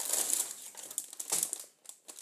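A plastic bag crinkling inside a building set box, close and crisp rustles in several short bursts with brief pauses between them.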